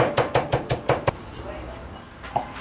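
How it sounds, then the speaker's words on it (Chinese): Garlic cloves are minced with a kitchen knife on a chopping board: six quick rhythmic chops up close, then near quiet with one faint knock at the end. "大串撇破后剁成蒜末"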